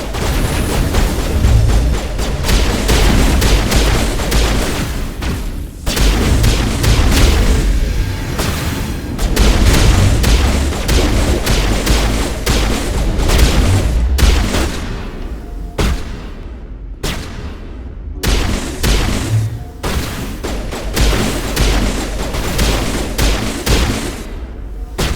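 Sustained gunfire in a Mass Effect battle against Geth, with loud, dense volleys and booming impacts that barely let up for about twenty-five seconds before thinning into a few sharp separated shots near the end.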